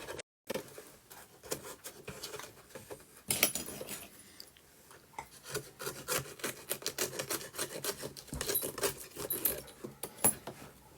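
Rapid rasping and scraping as excess is trimmed off a model French chateau wall piece, with close, busy strokes of uneven rhythm and no talking.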